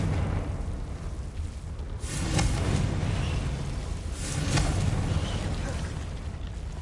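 A Confringo spell blast in the Hogwarts Legacy video game, two heavy booming bursts with rumbling tails about two seconds apart over continuous low game noise.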